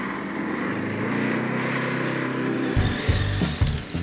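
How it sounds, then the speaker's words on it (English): Ducati Multistrada V4S and KTM 1290 Super Adventure S motorcycles power slide off-road, engines roaring loudly at full throttle, then sharper revving bursts and gravelly scrabble near the end. "open the throttle and attempt a few power slides"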